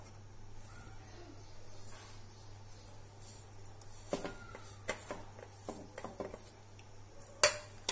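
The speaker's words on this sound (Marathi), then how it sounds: "याच्यामध्ये मी ओला नारळ टाकून घेते, त्याचबरोबर हे सगळे जे जिन्नस आहेत ते पण टाकणार आहे." Fresh coconut and other chutney ingredients dropped into a steel mixer jar for a spicy-sweet coconut chutney, giving a quiet stretch of room tone and then a run of distinct clinks and knocks, with one sharper clatter near the end.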